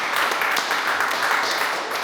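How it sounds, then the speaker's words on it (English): Brief, dense applause from an audience at a talk on community land trusts, steady clapping for the whole short stretch. "Come on, for a round of applause for that"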